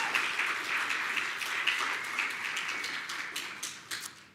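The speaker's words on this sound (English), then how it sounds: "you can all give him a round of applause" Applause at an awards show, a crowd's round of clapping heard from a distance that stays fairly soft and gradually tapers, with a few louder individual claps near the end.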